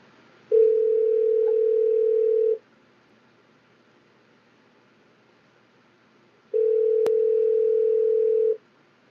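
An automatic phone dialer placing a call produces two long, steady ringing tones about two seconds each, separated by a few seconds of near-silence, clear and alone.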